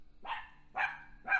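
Dogs greet their owner returning home with three loud, close barks spaced roughly half a second apart, clear against a quiet background.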